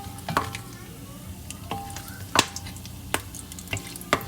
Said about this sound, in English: Let it saute for a couple minutes.